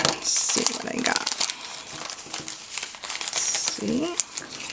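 Paper crinkles and rustles in bursts as a mail package is opened, close and clear, with a person talking over the handling.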